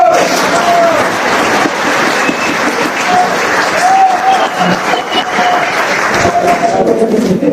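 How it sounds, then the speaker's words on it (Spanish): Applause rises from a class audience during a law lecture, a loud, busy spread of clapping mixed with crowd noise and scattered voices and a few whistle-like tones. "Un aplauso para..."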